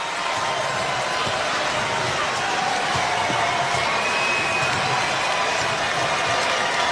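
Dense basketball arena crowd noise at a March Madness second-round game between McNeese State and Purdue, a loud continuous roar of cheering fans sustained throughout, with faint talk mixed in.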